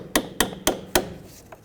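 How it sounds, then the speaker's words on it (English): A small hammer strikes the brake hose stud on the front strut of a 2007-2009 Saturn Aura four times in an even rhythm, each tap a sharp, close metallic knock, followed by a faint fainter tap. "with a little hammer you'll have to push the stud in a little bit"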